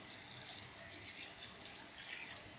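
Water poured into a cooking pot while preparing a traditional Kerala yam upperi (chena), a steady splashing, trickling flow close by that lasts the whole moment without any talk.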